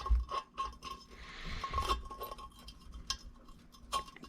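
A bearing puller tightened against a 1990 Honda CR500 engine casing gives close, quiet metallic ticks and ratcheting clicks in an uneven rhythm, with a brief scraping grind midway through.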